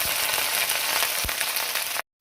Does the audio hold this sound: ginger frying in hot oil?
yes